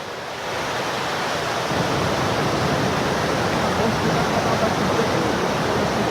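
A waterfall at Cachoeira dos Pretos in Joanópolis gives a steady, dense roar of rushing water, constant and loud throughout with no breaks.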